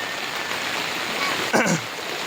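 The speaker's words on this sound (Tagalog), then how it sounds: "Ito na po yung ilog, nagdikit na sila." Floodwater from a swollen river rushes past a small bridge as a steady, close wash of broadband water noise, with a brief louder splash or knock near the end.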